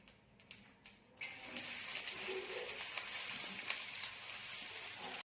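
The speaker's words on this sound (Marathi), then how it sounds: "मोहरी तडतडली आहे." Mustard seeds and chopped onion frying in a pan for a fenugreek dish, a few sharp pops and crackles followed by a steady, fairly quiet sizzle.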